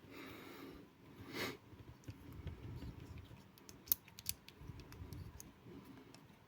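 The tail button of a Wuben X4 flashlight is pressed, giving a few faint, sharp clicks close to the microphone in an otherwise quiet setting.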